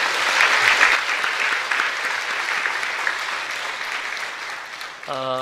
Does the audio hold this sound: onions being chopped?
no